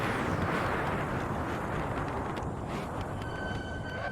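Porsche 917/30 race car in Assetto Corsa at speed, a dense, loud, continuous engine roar filling the whole stretch with slight shifts in pitch near the end.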